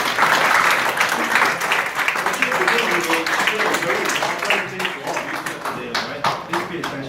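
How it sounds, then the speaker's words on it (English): Applause from a group gathered in an office, dense clapping that is loudest at the start and thins out toward the end, with voices heard among it. "shall we give another round of applause?"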